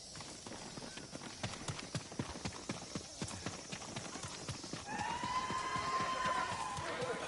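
Horse hooves gallop at a steady rhythm in the video game Ghost of Tsushima, a fairly quiet run of clip-clops over a background bed, then a rising whine of ambient sound takes over near the end.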